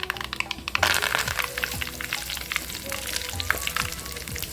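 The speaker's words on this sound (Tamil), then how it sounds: "எண்ணெய் காய்ச்சி கடுகு பொரிஞ்சிருச்சு. கொஞ்சம் கருவேப்பிலை போட்டுக்கலாம்." Mustard seeds and curry leaves crackling and sizzling in hot oil for spicy tomato thokku, a steady close fry peppered with sharp pops, no talking.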